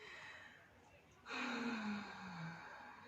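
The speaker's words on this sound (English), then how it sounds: "take a deep breath" A person draws a deep breath, a soft intake followed by a longer, louder breathy exhale, heard close and alone.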